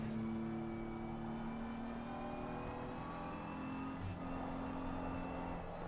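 A BMW M4 GT3 race car engine in the racing game Assetto Corsa Competizione drones steadily at a fairly constant pitch, with a slight dip and recovery partway through, loud and continuous throughout.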